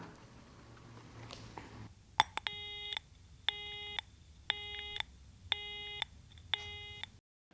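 Telephone line tones over a handset: a click, then five evenly spaced, loud electronic ringing bursts with silent gaps between them, cut off abruptly at the end before the call reaches an answering machine.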